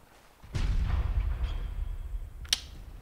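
Enemy cannon firing in the game Bloodborne: one heavy, booming shot with a long low rumble, followed about two seconds later by a sharper, brighter crack.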